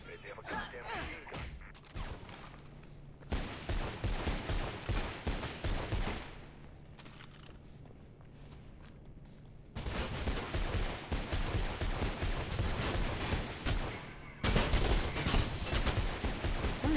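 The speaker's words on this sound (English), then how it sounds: "Weird, it just shot off like a million bullets." Rapid gunfire in Mirror's Edge comes in long, loud automatic bursts, several stretches of dense rattling shots separated by brief quieter pauses.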